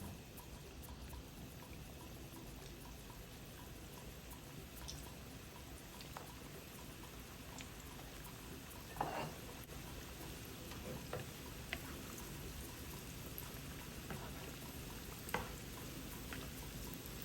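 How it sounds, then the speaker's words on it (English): Dough for Ghanaian sweet buns fries in hot oil over medium heat: steady, quiet sizzling runs throughout, with a few faint pops and crackles rising above the constant hiss. "Let's begin frying, but drop it in gently so you don't burn yourself."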